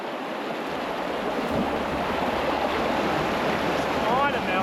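Rushing river rapids flow around a canoe on an Australian river, a steady broadband roar of moving water close by that runs unbroken through the whole stretch.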